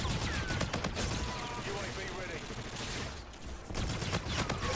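Video game gunfire, rapid bursts of shots clustered at the start and end with a steady clatter between, loud and close, with voices talking over it.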